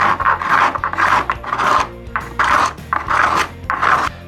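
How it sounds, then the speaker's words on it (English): A hand scraper rasps along guitar binding and purfling, held flat against the side, in repeated close strokes of about half a second each with short pauses between. "As long as you keep the scraper along the side as you're scraping,"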